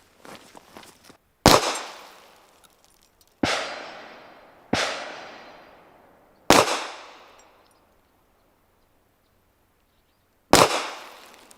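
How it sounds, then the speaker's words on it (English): A 9mm pistol is fired at a target at 25 yards, five loud, sharp shots spaced a second or more apart, each with a short decaying echo, and a longer pause before the last one. "I'm gonna shoot right here and see if we have a shift in 0."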